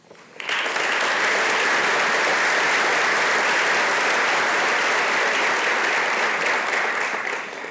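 Applause at a college academic and leadership awards convocation bursts in suddenly and holds as a dense, even roar of many hands, loud and steady with no voices over it.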